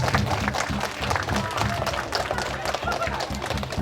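Audience applause at an Islamic study gathering in Lombok, a steady dense patter of many hands clapping throughout, mixed with crowd murmur and voices.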